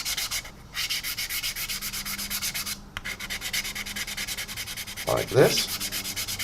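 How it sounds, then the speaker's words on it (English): A medium-grade sanding stick scrubs filler putty across the window area of a 1/144 Zvezda Boeing 787-9 model, giving fast, even back-and-forth rasping strokes nearby with two brief pauses, and a short spoken remark near the end. "I'm just going to take my sanding stick, again this is like a medium grade, and then I'm just going to basically just run it across the windows"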